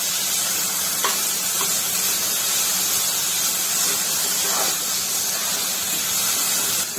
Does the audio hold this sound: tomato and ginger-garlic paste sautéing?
yes